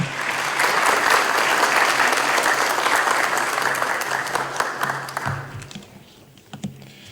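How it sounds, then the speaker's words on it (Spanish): Sustained applause from an audience at a Bolivian government event, greeting President Luis Arce as he is introduced; dense, even clapping for about five seconds that thins out and fades near the end. "Lo recibimos con un fuerte aplauso."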